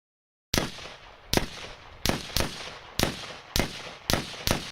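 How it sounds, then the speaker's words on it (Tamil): Gunshot sound effect: eight sharp, loud bangs fire in irregular succession after a brief silence, each cracking out and decaying quickly. "சடனாக புல்லட் சவுண்ட் கேட்குது."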